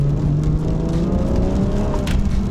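A BMW F30 340i, taken for a spin in rear-wheel drive on wet pavement, accelerates with a loud, steady engine drone and rising whir throughout, no voices.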